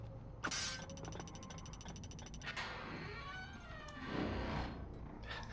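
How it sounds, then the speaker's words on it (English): A drawn-out mechanical creak with ratcheting clicks and a metallic whine, followed by another groaning creak, quiet and isolated, from the video game Prince of Persia: The Two Thrones. "Such a classic creak sound."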